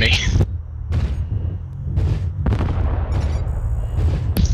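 Airstrike explosions in a military video game land as several heavy, booming blasts with rumbling low-end tails, spread across a few seconds amid continuous game noise and a brief warning tone.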